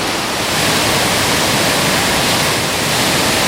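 The Fiumelatte, a very short river in Italy, rushes past in a loud, continuous roar of churning water, close by and unbroken, with no voices.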